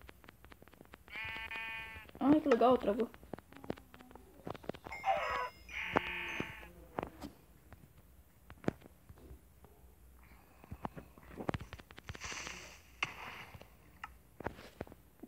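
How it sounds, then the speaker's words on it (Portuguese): Sheep in the Minecraft video game bleat in several short wavering calls, close and clear, amid game clicks and footsteps, while a person briefly speaks. "Aqui estão as criaturas que eu queria matar. As ovelhas."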